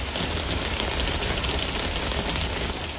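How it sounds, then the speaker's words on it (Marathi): Heavy rain pours down in a dense, steady hiss, drumming evenly on surfaces close by with no pauses. "फुल जोरात पाऊस चालेल"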